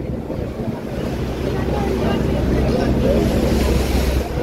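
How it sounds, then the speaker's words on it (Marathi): Sea waves slosh and churn around a small rocking boat near the Gateway of India in Mumbai, with steady wind buffeting the microphone in a loud, continuous roar and no voices heard. "आणि आता लाटांचा आकार सुद्धा वेगळा वाढतोय बघा. थोडी होडी हालतीये."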